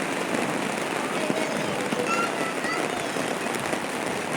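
Steady rain pours down outdoors as children bathe in it, a dense continuous hiss with faint voices and scattered splashes mixed in throughout.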